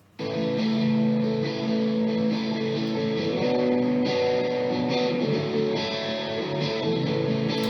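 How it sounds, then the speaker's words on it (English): Electric rhythm guitars play a steady sustained chordal part in a song, bright and full, with layered tones ringing continuously and loud throughout after a brief quiet start. "those rhythm guitars are just electric guitars playing that part"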